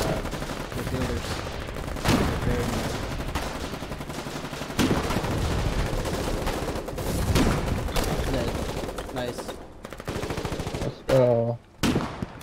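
Rapid automatic gunfire rattles almost nonstop through a video game battle, with bursts and heavy impacts rising and falling in loudness, a brief lull, and a sharp final volley near the end; voices can be faintly made out under the shooting.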